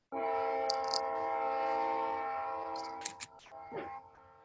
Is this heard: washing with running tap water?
no